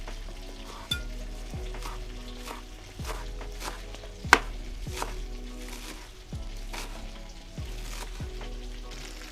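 Green onion and parsley are chopped on a board with a knife, giving a series of sharp, evenly spaced thuds, about one a second, each ringing briefly over a low background hum.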